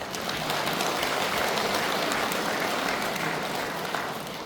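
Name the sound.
applause of praise at Buddhist dharma service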